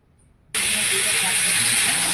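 Spices dropped into a hot frying pan already holding ginger, tomato and melon-seed paste burst into a loud, sudden sizzle that holds steady and close after a quiet start.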